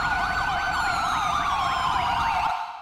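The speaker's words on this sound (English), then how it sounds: "Can we get a siren check?" A police siren from a video game roleplay wails loudly and up close, its pitch sweeping up and down in a steady rapid cycle for nearly three seconds before cutting off abruptly at the end.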